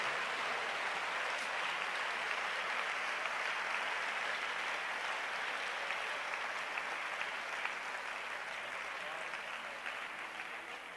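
Sustained applause from a congregation at a church convention, dense and even clapping continuing for the whole stretch with no pause.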